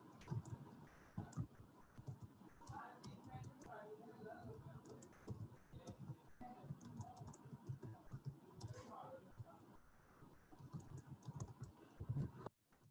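Typing on a computer keyboard, soft rapid key clicks in irregular bursts, faint and close, under someone talking throughout.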